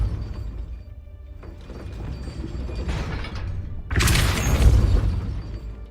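Depulso force spell firing in Hogwarts Legacy, heard as mechanical creaking and rumbling that builds steadily, then a sudden loud whooshing burst with a deep boom near the end, no talking.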